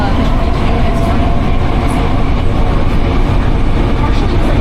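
Inside a Canada Line train bound for Waterfront, a loud, steady rumble and roar of the moving carriage fills the whole clip, with faint talk mixed in.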